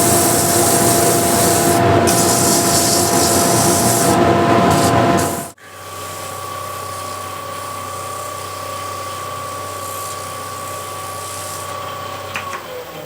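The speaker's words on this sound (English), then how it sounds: "So I'll just quickly sand this" Sanding the edge of a wooden bowl spinning on a lathe gives a loud, continuous rushing hiss, then after a brief drop the lathe keeps running with a steadier, quieter whir and a faint tone.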